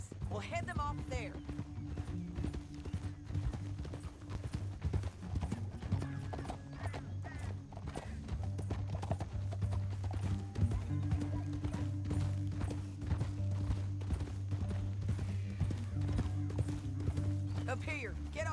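Rhythmic clip-clop of horse hooves galloping steadily throughout in Red Dead Redemption 2, with a horse whinnying briefly and a low musical drone underneath.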